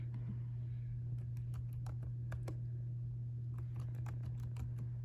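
Keys clacking in quick irregular bursts on a computer keyboard as a website name is typed into a search box, close and fairly quiet over a steady low electrical hum.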